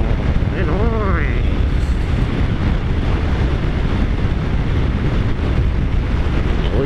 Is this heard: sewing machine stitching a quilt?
no